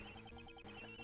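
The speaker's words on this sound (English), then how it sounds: "Oh, it's her cell phone." A cell phone ringtone in the Ace Attorney Investigations 2 video game, a faint, repeating trilling ring pattern with a steady electronic pulse running throughout, with a brief dip midway and no speech.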